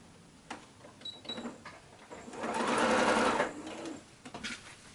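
A sewing machine stitches shirt-fabric quilt blocks for a memory quilt in one short, fairly loud burst midway through, with soft handling clicks and fabric rustle before and after.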